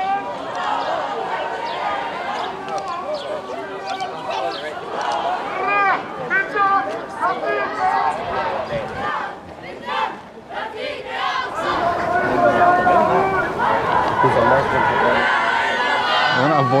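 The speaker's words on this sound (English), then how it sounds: "This crowd doesn't look friendly, so I want to avoid that." A loud, hostile-sounding crowd near the Temple Mount in Jerusalem during clashes, with shouting and chanting voices massed close by, swelling louder toward the end.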